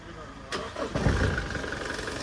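A Toyota Fortuner Legender with an open turbo pipe and intercooler is started. A short crank is followed by the engine catching and settling into a loud, rough idle, close by, with voices around it.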